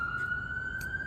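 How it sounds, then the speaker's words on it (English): An emergency siren sounds outdoors as one steady, slightly rising wail that holds through the whole moment over a low background rumble, with no talk. "sorry about the siren."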